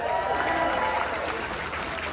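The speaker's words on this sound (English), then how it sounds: "Give yourself a nice round of applause for coming out to this beautiful Friday wedding reception." Wedding reception guests applaud steadily at a Friday evening reception, a dense, continuous wash of clapping that fills the whole stretch with little variation, with a faint mix of crowd noise underneath.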